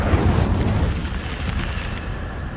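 A big fiery blast from the Incendio spell in Hogwarts Legacy, a loud rumbling burst that stays heavy and gradually tails off.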